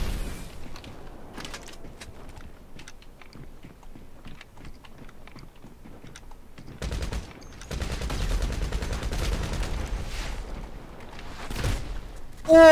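Gunfire in the GTA Online game: scattered sharp shots early on, then dense bursts of rapid automatic fire, loud and close, with a final sharp report at the end.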